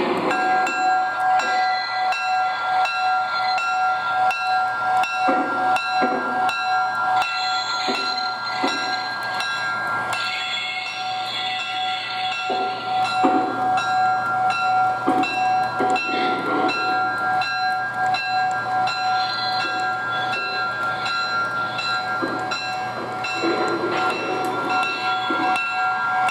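A model MTH Premier Milwaukee Road W-1 Cascade electric locomotive with Proto-Sound pulls a heavy train, giving a continuous rolling rumble with sustained tonal whine, rhythmic track clatter and occasional bell-like tones throughout, without talk.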